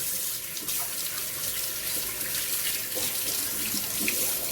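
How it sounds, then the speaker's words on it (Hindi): Tap water runs steadily into a sink, with splashing and shifting as beef trotters are rinsed under the stream, close by, no talking. "खुले पानी से आप धोना है इसको।"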